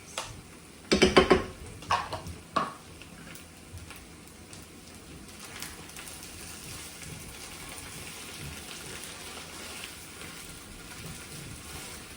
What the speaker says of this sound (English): I'm going to add in some tomato ketchup, and you're just going to mix that into your rice.